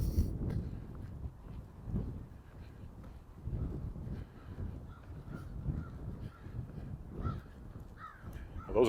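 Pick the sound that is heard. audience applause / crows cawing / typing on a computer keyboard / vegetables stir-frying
crows cawing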